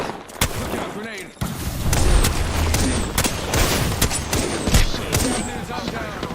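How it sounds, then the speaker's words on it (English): In a shooter video game, a heavy grenade blast bursts in, followed by dense, sustained gunfire with scattered sharp cracks, loud and close, while voices talk underneath. "Look out, grenade."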